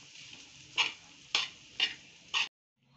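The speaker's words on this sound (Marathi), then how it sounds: "हे अशा प्रकारे व्यवस्थित ह्याला परतून घ्यायचं. असं छान मस्तपैकी परतून घ्यायचं." Paratha filling is stirred in a pan in four evenly spaced scraping strokes of a spoon against the pan, with a faint sizzle between them, then silence.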